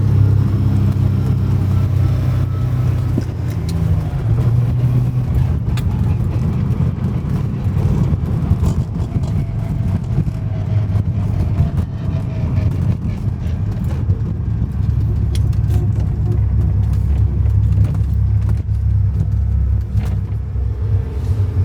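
Classic car engine running while driving, a vintage build tuned to around 600 crank horsepower, giving a steady loud low rumble throughout with continuous road and cabin noise.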